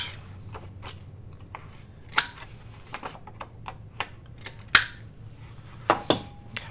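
Rounding the corners of a paper tag cut from 12x12 paper, heard as crisp irregular snips and crunchy clicks from a corner rounder, close and fairly quiet, with small rustles between the sharper cuts.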